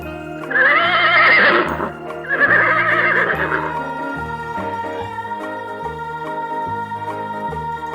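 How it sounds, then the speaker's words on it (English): A horse neighs loudly twice in close succession, each whinny bright and quavering, set over a steady background of music that continues alone afterward. "Horse."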